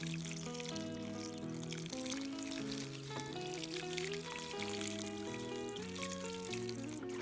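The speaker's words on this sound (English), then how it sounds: "when I water them, so with my watering, gently on my little seedlings" Water poured gently from a watering can onto seedlings, a soft continuous splashing trickle under steady background music.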